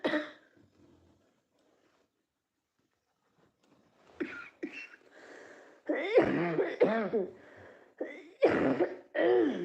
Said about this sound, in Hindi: खांसी आने लगती थी